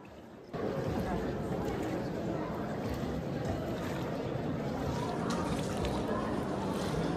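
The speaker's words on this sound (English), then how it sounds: "enjoyed the lovely sound of the water and the boat" Boat moving through water on a trip off Majorca, a steady broadband wash of water and hull noise that holds evenly throughout with no clear speech over it.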